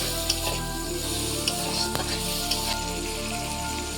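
Onion, potato and green chili frying in a pan, a steady close sizzle with occasional stirring clinks and scrapes, no talk.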